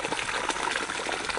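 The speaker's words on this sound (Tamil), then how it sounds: "இந்த தண்ணி அப்படியே வந்துருக்கும் இங்கிருந்து அப்படியே வாய்க்கால் போய்." Water flowing steadily into an irrigation channel on farmland, a continuous close rushing gush that fills the whole moment with no voices.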